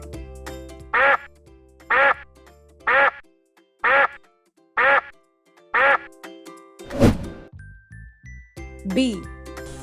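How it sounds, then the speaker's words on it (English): Duck quacking on a farm in six evenly spaced bursts, each a short run of nasal quacks, close and loud, followed by a brief jingle and a higher tone at the end. "Duck."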